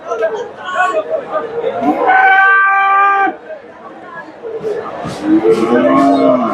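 A Friesian heifer moos loudly and long nearby amid the chatter of a busy cattle market crowd at Dhap market in Bogura, followed by another lower moo.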